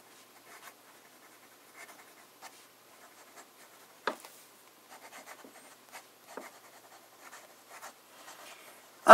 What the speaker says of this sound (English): Let's start with a bit of fine writing.